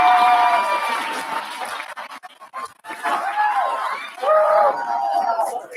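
Applause and cheering from an audience at a school board meeting, loud at first, then fading into scattered claps and chatter before swelling again near the end.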